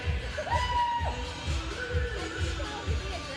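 Crowd cheering and shouting in an ice rink at a peewee hockey game, a dense murmur of voices with rising whoops and a steady rhythmic thumping underneath.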